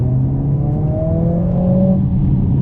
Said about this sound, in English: I just want to show you the sound of this car because it sounds absolutely fantastic.